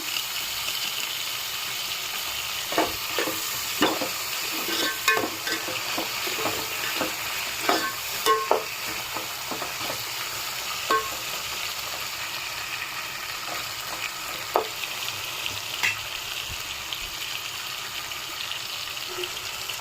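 Food sizzles and fries in a pan while being stirred, for hotel-style idli and sambar. A constant crackle runs throughout, broken by irregular scraping and clinking strokes of a spoon.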